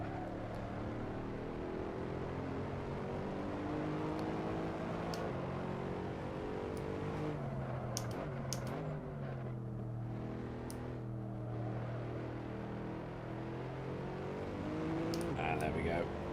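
A road car built by a Formula 1 team is driven hard around the Barcelona circuit, its engine droning steadily with rising and falling revs throughout, heard from inside the cabin with no talking.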